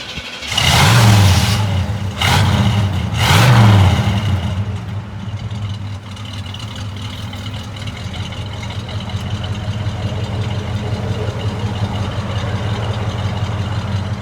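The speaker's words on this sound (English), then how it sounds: "Got a nice stock rumble to it." A 1970 Chevrolet El Camino SS with a 454 V8 cranks and fires up with a few loud revs, then settles into a steady, deep rumbling idle, heard up close with no talking.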